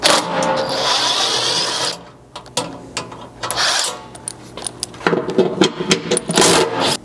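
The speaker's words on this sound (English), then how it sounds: "the 13mm will take out the remaining 5 along the back" A 13mm socket on a ratchet backs out the bumper skid bolts along the rear of a ZR2 Colorado's front bumper mount, giving bursts of close mechanical clicking and rattling with short pauses between turns.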